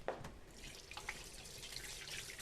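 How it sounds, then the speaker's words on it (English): Hands are rinsed under a running kitchen tap for a moment, giving a close, steady splash of water. "let me give my hands a quick rinse here,"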